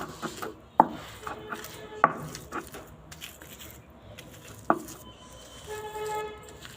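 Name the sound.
grinding chilli and garlic on a stone grinding slab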